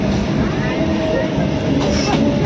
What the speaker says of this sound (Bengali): যে ট্রেন এসে দাঁড়ালো শিয়ালদায়